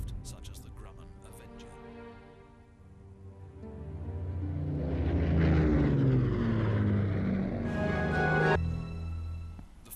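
A Grumman Avenger, a propeller-driven carrier anti-submarine aircraft, drones steadily as its piston engine swells to a loud, throbbing peak and then eases off, with a narrating voice over it.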